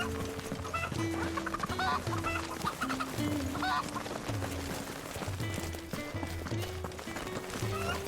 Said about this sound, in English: Step on the chicken.